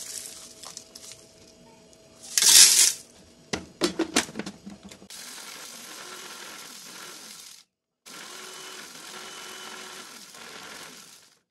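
An electric blender grinds fine herbs and salt into seasoned barbecue salt on pulse mode. A few rattling clicks and a sharp burst come first, then two long, even whirring runs split by a brief pause.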